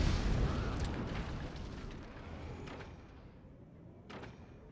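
A nuke detonating in the physics-based strategy game Forts, a heavy booming blast that rumbles and slowly fades, with a few sharp crackling impacts during the decay.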